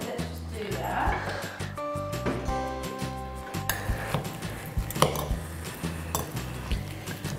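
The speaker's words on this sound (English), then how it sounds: "I'm going to drain the butter beans." Butter beans being drained in a home kitchen, with liquid pouring and metal clinks of a can and utensils against dishes, close and busy, while a child and an adult talk over it.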